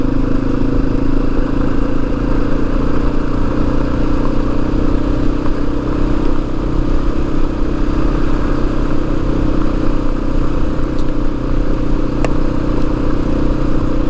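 A Yamaha XT250 motorcycle ridden along a country road gives a loud, steady engine drone under strong wind rumble, continuous and close, with no voices.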